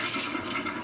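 A steady hiss of water sprays from the nozzle in Super Mario Sunshine. The rushing sound is broad and continuous, fairly soft, and carries no voices.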